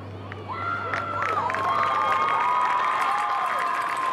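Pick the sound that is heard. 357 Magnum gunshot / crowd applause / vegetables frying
crowd applause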